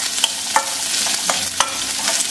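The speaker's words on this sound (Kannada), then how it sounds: "ಜೀರಿಗೆ ಹಾಕೊಂಡಿದ್ದೀನಿ." Cumin seeds sizzle in hot tempering oil for Andhra-style bottle gourd dal while a spoon stirs the pan, steady close frying hiss punctuated by about five sharp scraping clinks.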